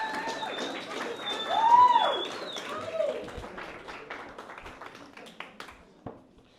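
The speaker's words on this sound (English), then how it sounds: "You guys can clap while I get the guitar." A comedy audience in an art gallery claps, with scattered, fairly faint claps that thin out under a voice talking over them.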